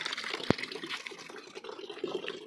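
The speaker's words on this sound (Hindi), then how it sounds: "ये नहाने के लिए पानी रख रहा भी।" Water runs and gushes into a container for bathing at a village home, a steady faint splashing flow with one sharp knock early on.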